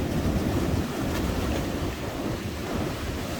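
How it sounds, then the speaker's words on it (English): Waves of the Irish Sea roll in with a steady, dense roar like broad surf, continuous and fairly loud throughout with no voices. "the waves of the Irish Sea rolling along here this morning"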